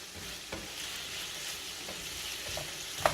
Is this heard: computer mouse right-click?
no